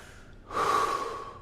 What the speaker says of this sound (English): the next breath we're going to do is called Wim Hof